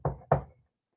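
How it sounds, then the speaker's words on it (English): Two firm knocks land on a door, close and solid, about a quarter second apart, with silence afterward. "I knock 3 times on the door"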